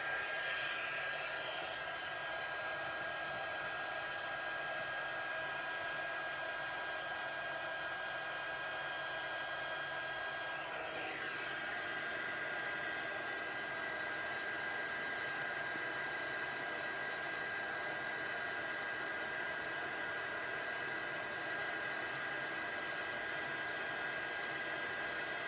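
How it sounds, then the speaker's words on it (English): Embossing heat tool blowing hot air onto embossing powder for card making, a steady loud continuous whoosh like a hair dryer lasting throughout, alone without talk. "it's always a good idea to let your heat tool heat up first before you take it to your embossed image"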